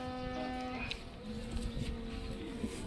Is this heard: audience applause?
no